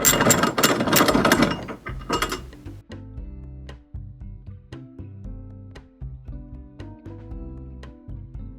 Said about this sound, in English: Next, we're going to put on our lock nuts with our wrenches.